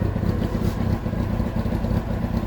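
Kawasaki Ninja motorcycle engine running close by with a rough, uneven idle as if about to stall, a continuous low throbbing loud throughout.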